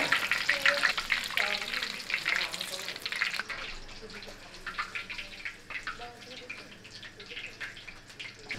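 Fish pieces fry in refined oil in a Chinese wok with a close, hissing sizzle that starts loud and then settles into a softer crackle.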